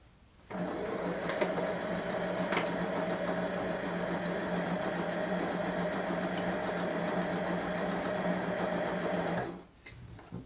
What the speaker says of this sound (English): You can turn your sewing machine on.